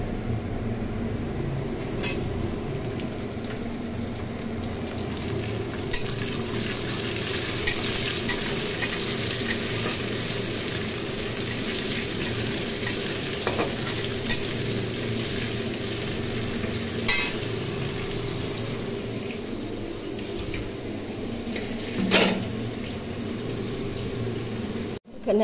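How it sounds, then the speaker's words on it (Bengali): Chopped jackfruit seeds frying in a pan, a steady close sizzle with occasional clinks of stirring running throughout. "আমরা ভেজেছি এই যে কাঁঠালের দানা, এটা কুচি কুচি করে কেটে ভাজা করেছি"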